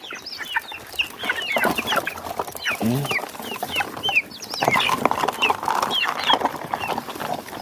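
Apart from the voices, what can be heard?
chickens clucking, hungry for grain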